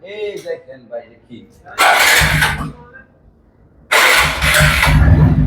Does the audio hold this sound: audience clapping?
no